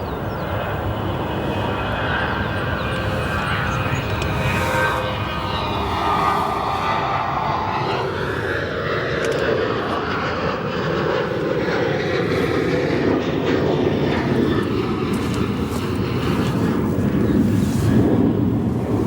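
Airliner arriving at O'Hare Airport, a broad jet engine roar that builds and sweeps past at a distance, steady and loud with some wind noise on the microphone.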